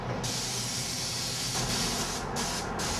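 A high-pressure airless sprayer at 5,000 psi sprays three-coat epoxy paint onto a bridge, a loud, steady broadband hiss that cuts out briefly in short gaps before resuming.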